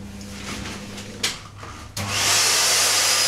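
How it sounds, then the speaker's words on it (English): A vacuum cleaner suction pump switches on to hold a wooden platter against a lathe suction plate through the headstock, rising to a steady, loud rushing hiss that keeps going after a faint earlier hum and a brief bump. "I'm now sucking the platter to a suction plate. From a vacuum cleaner up through the pipe, through the headstock"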